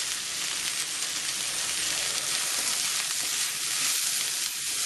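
Cauliflower frying in a pan with spices and a pinch of ajinomoto, a steady close sizzle and crackle that holds evenly throughout with no talking.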